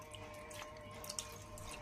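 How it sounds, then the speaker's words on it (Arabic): Half a cup of water poured over fish pieces with lemon in a baking tray, a steady splashing trickle running throughout at close range with no talk. "نزلت عليها بنص كوبايه ميه بعد ما حطيت الليمون"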